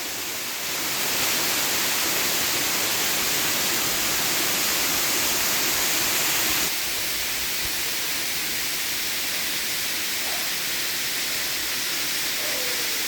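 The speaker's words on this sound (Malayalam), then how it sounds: "നമ്മുടെ സ്ഥലത്തിലേക്കുള്ള മറ്റൊരു വെള്ളച്ചാട്ടമാണ് ആ കാണുന്നത്" Waterfall on a hillside property with a rocky natural cave, a loud, steady broadband rush of falling water that fills the whole stretch and drops a little in level partway through.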